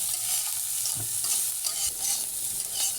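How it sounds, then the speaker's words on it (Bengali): Soybean chunks fry in hot oil in a wok, giving a steady, loud sizzle with faint stirring scrapes and no talking. "আমি হালকা বাদামি কালার করে ভেজে নেব"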